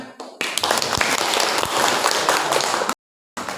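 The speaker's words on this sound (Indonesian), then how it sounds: "Ya baik, beri tepuk tangan" An audience at a school teaching session claps loudly and close by in a dense burst of applause, which cuts out briefly before resuming.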